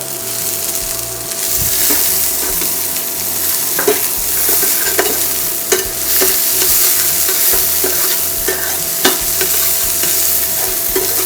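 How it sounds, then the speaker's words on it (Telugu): Finely chopped onions fry in hot oil in a pan for dal tadka. A steady, loud, close sizzle runs throughout, broken by occasional stirring scrapes, with no voices. "సో ఫైన్ చాప్ ఆనియన్స్ వేసేసుకుంటున్నాము ఇప్పుడు"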